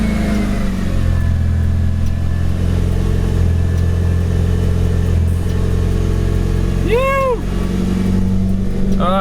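Mitsubishi Evo 9 engine runs at a steady, loud idle close by with a constant low hum, and a brief rising-and-falling electronic chirp sounds near the end.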